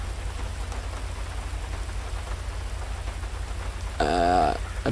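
Steady rain hisses throughout a GTA V roleplay scene, a constant wash of falling water over a low rumble, with a brief louder tonal sound near the end.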